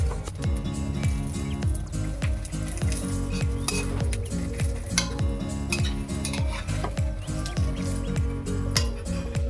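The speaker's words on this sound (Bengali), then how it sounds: "রাতের বেলায় খাবার খাবো বলে ডিম ভাজতে এসেছি।" Eggs frying in a pan for a night meal, with steady sizzling and repeated scraping and clinking of a utensil against the pan, close and fairly loud throughout, no talking.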